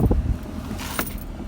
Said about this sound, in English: so the car's running fine now